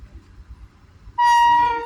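A train horn blares suddenly after a low rumbling, sounding one loud, sustained toot close by, as the Tutari Express passes over a bridge near Ratnagiri.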